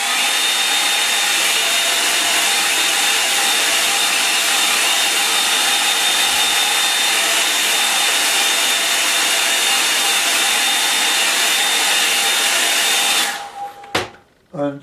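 Hair dryer drying watercolor paint on a snow-scene painting, a loud steady blowing roar with a thin whine, running continuously before cutting off abruptly near the end.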